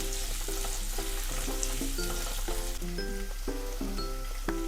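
Chopped onions with green chillies fry steadily in a pan with a continuous soft sizzle, accompanied by melodic background music throughout.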